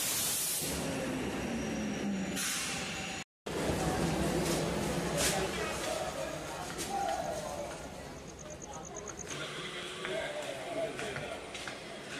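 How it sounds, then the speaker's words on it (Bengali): Bamanhat to Siliguri Junction DEMU local train 75714 rumbles into a station platform, a continuous rolling clatter with a brief break, fading slightly toward the end while a person talks over it. "75714 Bamanhat two Siliguri junction demo ইতিমধ্যেই প্ল্যাটফর্মে প্রবেশ করলো"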